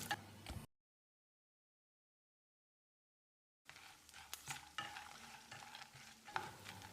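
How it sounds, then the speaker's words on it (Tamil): Peanuts and tamarind stirred and sizzling in a hot pan over medium heat, with scraping and crackling, broken by a few seconds of silence in the middle. "அளவான தீயில ஒரு 30-40 செகண்ட் வறுத்துக்கலாம்"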